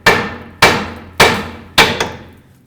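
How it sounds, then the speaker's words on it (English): A hammer strikes a steel tie rod end on a 2009-2010 Dodge Ram 1500 steering knuckle, four loud, sharp metallic blows about half a second apart with ringing decay, plus a lighter follow-up tap after the last, no talking. "But we'll try our hammer method first."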